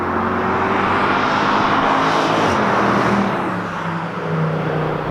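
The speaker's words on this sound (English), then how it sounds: "the sound from this engine is just phenomenal" A powerful 2014 Mercedes C63 AMG engine roars steadily and loudly throughout, a deep rumbling drone with no voices over it.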